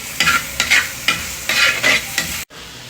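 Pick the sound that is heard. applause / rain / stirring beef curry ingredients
stirring beef curry ingredients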